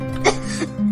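A woman sick in bed coughs once, a short, close burst over a faint steady hum.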